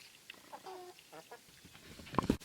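Backyard hens, including a Laced Wyandotte, cluck softly in a flock, with a few short calls and a sharper burst near the end against a quiet outdoor background.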